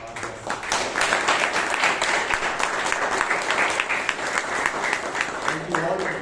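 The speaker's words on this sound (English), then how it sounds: "let's hear a warm round of applause for our guests" Members at a Bangalore Toastmasters meeting applaud to welcome standing guests, a full, sustained round of clapping from a roomful of people that stays loud and even throughout, with some voices mixed in.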